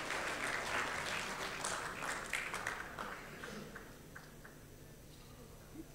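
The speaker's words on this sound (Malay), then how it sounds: "Kita bagi satu tepukan yang gemuruh kepada para pembahas." A hall crowd breaks into sustained, thunderous applause for debaters at a party's annual general assembly, dense clapping that gradually tapers toward the end.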